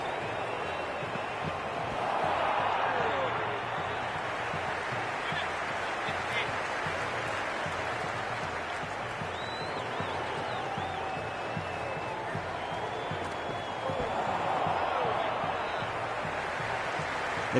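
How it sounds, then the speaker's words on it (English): Loud, continuous crowd noise fills a cricket stadium during a T20 World Cup league match between India and South Africa, a dense roar with swells of cheering, steady throughout without pause. "It's evident and ever so audible that the crowd is at near bursting point at today's play."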